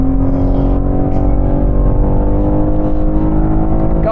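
BMW M3 Competition engine driving fast on a race track at around 200 km/h through banking, a loud, steady, dense engine roar with rich harmonics throughout, close and continuous.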